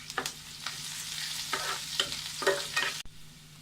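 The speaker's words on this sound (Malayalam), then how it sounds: "ഇനി ഇതിലേക്ക് അരിഞ്ഞ് വെച്ചേക്കണ ഇഞ്ചി, വെളുത്തുള്ളി, പച്ചമുളക്, വേപ്പിലെല്ലാം ചേർത്ത് വഴറ്റി കൊടുക്കാം." Chopped ginger, garlic, green chili and curry leaves are sautéed in a pan for Kerala fish molee, giving a soft steady sizzle broken by several short stirring scrapes close up.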